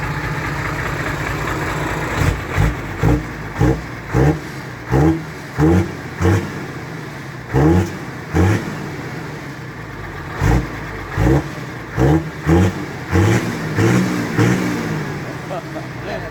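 A car engine with a freshly repaired exhaust pipe is revved in a long series of short, punchy blips at a steady rhythm over a constant idle, with some voices in the background.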